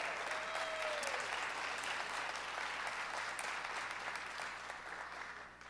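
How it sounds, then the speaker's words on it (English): An audience at a student film awards screening for K-8 entries claps steadily, a dense, fairly distant patter that holds evenly for several seconds and then fades slightly toward the end. "Round of applause,"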